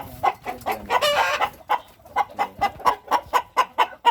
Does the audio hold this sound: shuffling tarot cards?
no